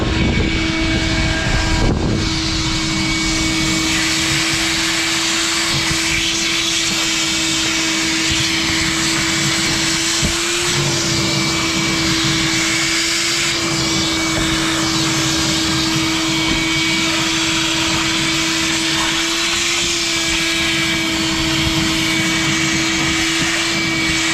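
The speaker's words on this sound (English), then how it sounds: "I'm going to use the vacuum to clean some of this debris" A vacuum cleaner runs continuously at close range, cleaning debris while a 1996 Toyota Camry fuel pump is replaced, with a loud, steady motor whine, rushing airflow and a few brief clunks as debris is drawn in.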